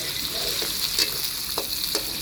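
Chili, shallot and garlic paste sizzles steadily in a hot pan while being stirred, a dense continuous frying hiss with a few soft scraping knocks.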